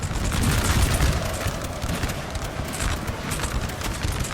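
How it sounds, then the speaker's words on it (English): Prussian grenadier and line infantry musket volleys in Napoleon Total War, a dense, rolling crackle of overlapping shots loudest early then continuing steadily, with battlefield rumble and possible hoofbeats underneath. "You have two lines of Prussians firing, Grenadiers up above, and then line infantry down below."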